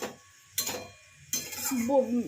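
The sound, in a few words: stirring salted bottle gourd in a pan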